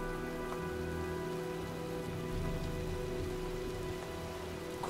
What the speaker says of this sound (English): When is it not raining here?